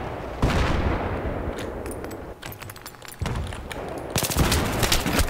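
Automatic weapon fire sprayed in a squad deathmatch round of a shooter game, long rattling bursts with short gaps and a loud final volley, close and dominant with no speech.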